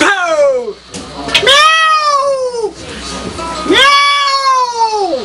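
A voice imitates a cat, giving three long, wavering meows with short pauses between them, close and fairly loud.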